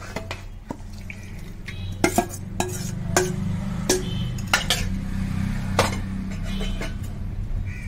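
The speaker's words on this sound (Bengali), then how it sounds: "এবার মাংসটা দিয়ে ভালো করে মিশিয়ে দিয়ে ভালো করে মিশিয়ে দিয়ে" Set-aside chicken being stirred into cooked rice in a pot for chicken tehari, a spoon scraping and clinking against the metal in irregular sharp knocks over a low steady background hum.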